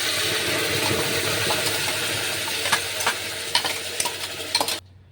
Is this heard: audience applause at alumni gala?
no